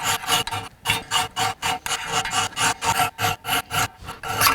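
A hand file rasps across a steel knife blank without power tools, a fast run of about fifteen close, loud back-and-forth strokes in an even rhythm, alone and without talk.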